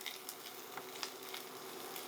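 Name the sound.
vegetables sautéing in a hot pan with spatula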